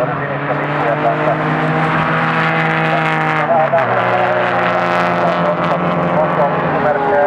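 Porsche race cars lap Alastaro Circuit in a steady, loud engine drone whose pitch sweeps down and back up as a car passes close by. Commentary runs over the engine noise throughout.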